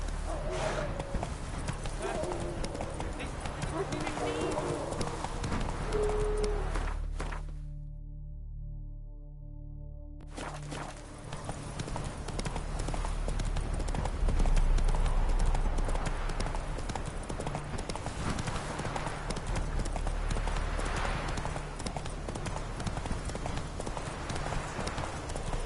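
Roach, Geralt's horse in The Witcher 3, gallops with steady rapid clip-clop hoofbeats that run throughout, briefly cutting out near the middle, under a game soundtrack and occasional speech.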